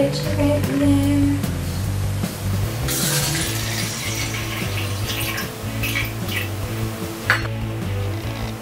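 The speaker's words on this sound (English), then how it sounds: "When you pour your water into the glasses, make sure it's nice and warm" Warm water poured from a tap into a drinking glass, a steady running splash with a brief clink near the end, heard alone without talk.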